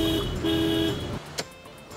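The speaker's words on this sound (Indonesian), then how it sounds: "bunyikan klakson terus-menerus supaya perhatian mereka terpusat kepada kita" A car horn sounds in two sustained honks in a row, close and fairly loud, then cuts off, leaving quiet background with a brief sharp knock.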